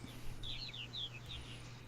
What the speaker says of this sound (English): The birds sound good too.